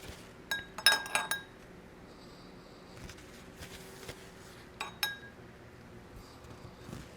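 Spoon clinks and taps against a glass while stirring coffee, a quick cluster of bright chimes early on, then a few scattered single clinks, close and fairly soft with no talk.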